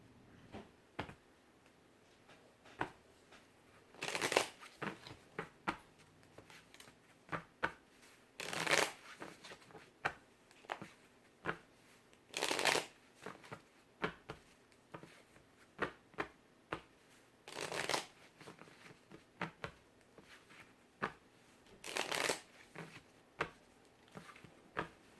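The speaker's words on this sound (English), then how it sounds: "We'll get a couple more shuffles and then we'll lay the cards out." Tarot cards are shuffled repeatedly in quick riffling bursts, each followed by soft taps and squaring, with quiet gaps between rounds.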